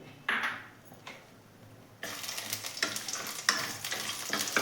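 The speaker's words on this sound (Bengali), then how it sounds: "কড়াতে একটু সর্ষের তেল দিয়েছি, এবার এর ভেতরে আমি বড়িগুলো দিয়ে ভেজে নেব" Lentil dumplings (bori) fry in mustard oil in a kadai. Quiet clinks come first, then a loud, close sizzle starts suddenly and keeps crackling with sharp stirring scrapes, and no one speaks.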